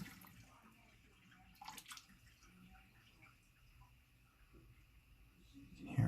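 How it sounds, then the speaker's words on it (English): A toilet tank refills after a leaking flapper gasket, with faint running water and a low trickle under a quiet hum, a couple of soft drips or knocks, and a slight swell of flow near the end. "I'll let it fill and then see if it leaks by into the toilet"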